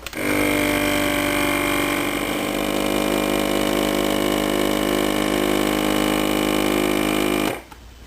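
A vacuum sealer pump draws air out through a hose attached to a lid, a loud, steady mechanical hum with a buzzing tone running about seven seconds before cutting off abruptly.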